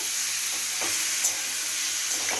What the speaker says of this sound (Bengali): আদা রসুন পেঁয়াজ দিয়ে তারপরে এটাকে নাড়িয়ে চাড়িয়ে কম মশলা দিয়ে